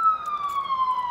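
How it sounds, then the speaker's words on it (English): An ambulance siren passes close by, a loud, sustained wailing tone gliding slowly downward in pitch. "So this is ambulance."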